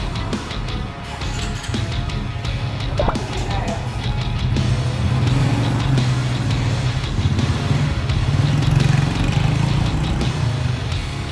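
A Honda Wave 125i motorcycle fitted with a GT7 boost coil idles with a steady low engine drone, then revs up and holds a higher, louder pitch, close by, with a voice talking over it.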